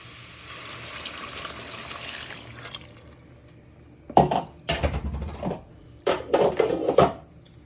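While minestrone is being made, water is poured into the soup pot with a steady rush, followed by clanks and scrapes of the pot and utensils, close by.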